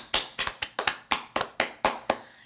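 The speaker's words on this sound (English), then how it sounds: "Give a round of applause" A handful of distinct claps, about ten in a loose uneven rhythm, crisp and close but quiet, like a sparse round of applause from a small audience.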